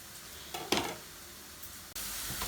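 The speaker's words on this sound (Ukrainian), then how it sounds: "І теж його відправляємо сюди до моркви, до цибульки і легесенько піджарюємо." Chicken breast fillet pieces lightly frying in a pan with carrot and onion, a soft steady sizzle with a few short louder crackles and stirring bursts, no talk.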